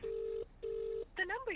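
Two long, even phone-dialing tones sound in succession with a short gap between them, followed by a brief spoken voice.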